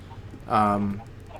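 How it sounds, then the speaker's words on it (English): A single short cluck from a chicken in the Minecraft Skyblock game, brief and fairly clear over quiet background. "Oh wow, there are chickens everywhere."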